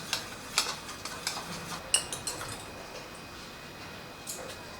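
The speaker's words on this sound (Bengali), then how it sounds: "তো এগুলো দিয়ে খুব ভালো করে ডিমটাকে ফেটিয়ে নেব।" Eggs are whisked with Kashmiri chili powder, cumin-coriander powder, chaat masala and ground pepper, giving a quiet, close run of light clicking taps from the whisk against the bowl in an uneven rhythm.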